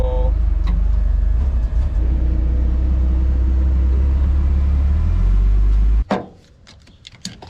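A Nissan 240SX engine runs after being jump-started from a portable jump pack, a loud, close, low rumbling idle that holds steady for several seconds and then cuts off abruptly, leaving a few scattered clicks and knocks.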